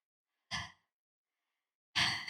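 A voice imitates heavy breathing: two close, breathy exhalations about a second and a half apart, with silence between them.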